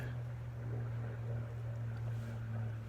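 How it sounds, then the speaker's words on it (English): A high-powered aircraft engine drones steadily as the plane enters the traffic pattern, a continuous low hum holding level for the whole stretch with no talking. "Somebody entering the pattern with a high-powered engine."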